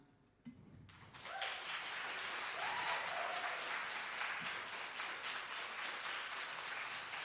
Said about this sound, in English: Are you guys going to stop applauding so I can answer?